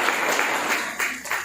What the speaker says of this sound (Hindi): आप सभी एक बार के स्वागत में जोरदार तालियां बजाइएगा